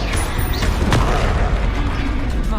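A fiery Confringo spell explosion in the video game Hogwarts Legacy, a loud booming blast with a sharp burst near the middle, set over dense, continuous combat rumble.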